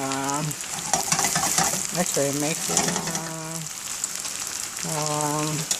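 Food fries in oil in a pan with a steady crackling sizzle throughout, while a person talks intermittently over it.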